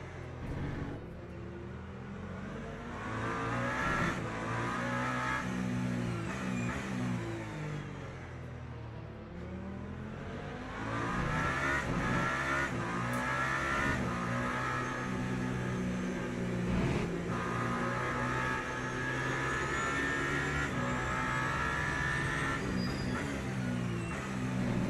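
Race cars in a multiclass racing video game, including a Porsche, roar continuously with layered engine drones and revving that rise and fall over the whole stretch, loud and close with no talking.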